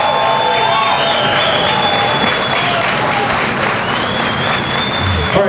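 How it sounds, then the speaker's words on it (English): A large crowd at a Jack Daniel's barbecue contest claps and cheers continuously and loudly, with a dense, sustained roar of applause and faint voices mixed in. "A big round of applause for Mark Wood."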